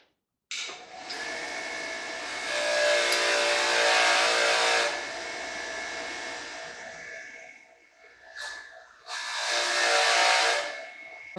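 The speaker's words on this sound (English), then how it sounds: "I'm going to hit it on a wire wheel here and see what it does" A lead-gold melt piece pressed against a spinning wire wheel, a loud steady grinding hiss for about four seconds, a fade, then another loud burst near the end.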